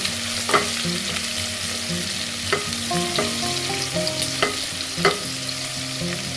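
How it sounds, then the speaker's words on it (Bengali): Sliced onions frying in hot oil for beresta, a steady close sizzle and crackle with occasional spoon scrapes and stirs against the pan, no voices. "তেলটা গরম হয়ে গিয়েছে, এখানে আমি 1/2 কাপ পরিমাণ পেঁয়াজ দিয়ে দিচ্ছি"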